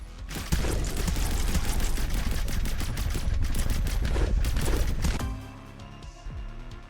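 Rapid pump shotgun blasts in the Vampire Hunters shooter game form a dense, loud barrage of overlapping booms and impacts, ending abruptly into quieter mechanical game sounds.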